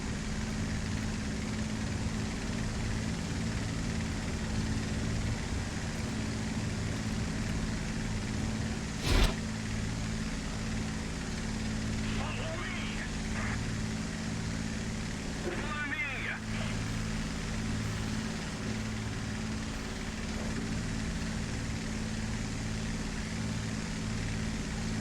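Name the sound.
aircraft engine in flight, video game War Thunder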